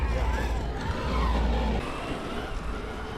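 A Traxxas HOSS 4X4 VXL RC truck drives under throttle, its electric motor whine steady and close with rumbling low-end surface noise throughout, a person talking over it.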